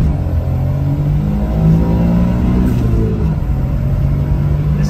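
A Suzuki Alto RSR accelerates hard through its gears, the engine note climbing steadily in pitch at close range, loud and continuous without speech.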